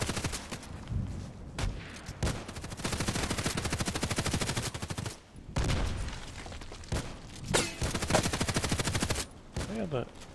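Bursts of automatic fire from an SA-58 rifle in the Contract Wars shooter, with rapid rattling volleys broken by brief pauses, loud and close, and a voice talking at points between them.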